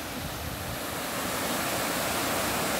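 Water rushes steadily over a full dam (bandhara) near the bridge at Kadwad. It makes a dense, constant, fairly loud roar with no breaks and no voices.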